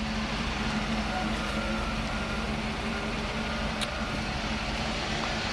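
A 1979 Hurst Olds car engine idles with a steady, even rumble and broad mechanical hum throughout, with no change in pace.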